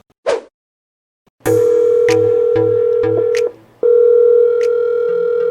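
A short blip, then steady electronic phone call tones through a small Bluetooth speaker shaped like a large AirPod, interrupted by clicks and a brief pause before resuming.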